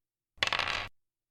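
A handful of dice tumbling and clattering across a hard surface during a tabletop game, one short rattling burst of overlapping clicks lasting about half a second, close and alone.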